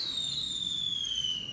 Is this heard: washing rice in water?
no